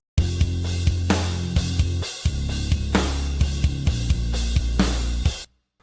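Synth bass side-chained to a kick drum, a loud sustained low tone that dips and pumps at each regular kick hit, running steadily alone before cutting off.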